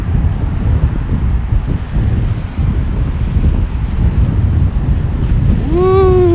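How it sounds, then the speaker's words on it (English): Wind buffets the microphone on an outdoor footbridge at sunset, a loud, steady rumbling roar that runs throughout, with a rising whistling tone sliding upward in the final second. "the wind is picking up"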